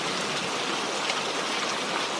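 Steady rainfall, a dense hiss of drops pattering evenly without pause and with no voices.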